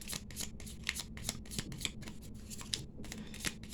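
Tarot cards being shuffled by hand in rapid, even riffling bursts, close and fairly quiet, with no talking.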